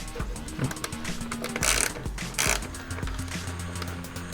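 A ratchet works a 10mm bolt loose on a 2005 Acura TSX during AC compressor replacement, giving repeated close metallic clicking and pawl ratcheting in short bursts with a couple of louder clanks.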